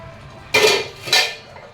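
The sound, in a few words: lid lifted off a cooking pot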